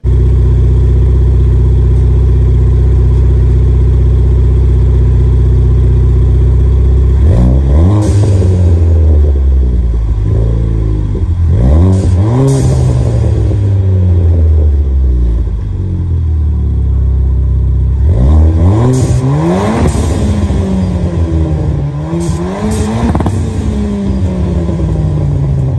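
A Ford Fiesta ST with a Scorpion 3-inch non-resonated catback exhaust idles in a car park, then is revved in several sharp bursts that rise and fall, loud and close, between stretches of deep idle rumble.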